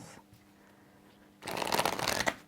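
Brief riffling rush of tarot cards being shuffled, close and crisp, following a quiet pause.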